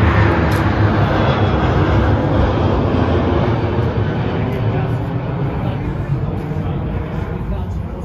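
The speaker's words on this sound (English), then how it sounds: "that is the sound of my plane flying straight over us" A loud, broad roar of a passenger plane passing overhead in Suceava, Romania fills the clip, steady and close, fading slightly toward the end.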